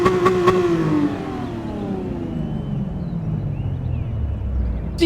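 A car engine in Gran Turismo 7 revs high and then winds down in pitch, a loud raspy drone that settles into a low rumble with a brief blip at the end.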